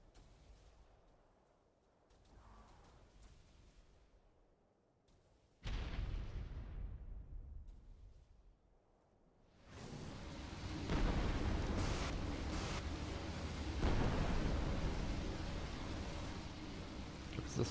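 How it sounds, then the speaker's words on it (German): Tek cannon shots in the video game Ark Survival Evolved: faint booms at first, then a sudden loud blast with a fading tail, followed by sustained heavy rumbling fire and explosions. "Einmal kurz 3 Schuss drauf abfeuern mit seiner Tech-Kanone"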